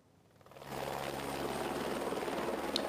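Helicopter flying near Reykjavík airport, its engine and rotor drone rising within half a second into a steady, fairly loud whir that holds to the end.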